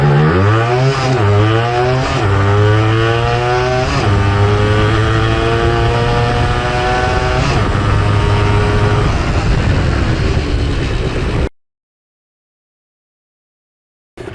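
Vintage Yamaha two-stroke motorcycle fitted with an aftermarket silencer accelerating hard, its loud, close ringing exhaust climbing in pitch through several gear changes, each shift dropping the note before it rises again, then cutting off abruptly.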